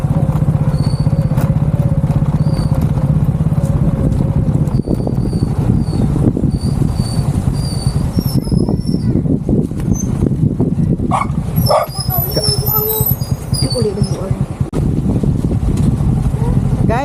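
Strong gusting wind battering an outdoor microphone in a rural Philippine setting, a loud continuous low roar that swells and drops, with a faint voice and brief sounds mixed in.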